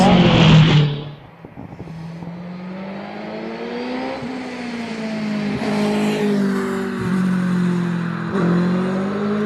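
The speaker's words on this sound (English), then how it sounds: "Ian Tucker now." A 2-litre class race car at a British Championship hillclimb in Doune, heard as a brief loud burst at the start, then a sustained engine drone that climbs and dips in pitch through gear changes as it accelerates up the course.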